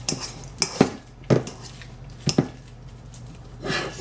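Ripe bananas mashed in a bowl with a utensil for vegan spelt banana bread, a handful of sharp clinking scrapes against the dish spaced over a few seconds, close and clear with no talking.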